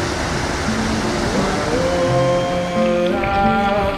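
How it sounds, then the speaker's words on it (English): A river swollen with snowmelt rushes through the Burekos Gorge in Achaia, Greece, a loud, continuous roar of water with faint tonal sounds over it. "So that's the river that's coming down from Galabrica through the Burekos Gorge. Now it has a lot of water due to the snow melting."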